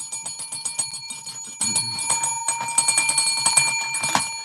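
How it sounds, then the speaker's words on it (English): Loud electronic alarm bell ringing in rapid repeated bursts, steady and insistent, with a brief pause before it resumes even stronger, no voices over it. "I think the alarm bells are going off"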